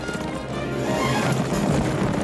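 Galloping horses in the 1998 film The Mask of Zorro, hooves clip-clopping in a steady, close, fairly loud rush as a rider leaps from two horses over a log and lands back on them.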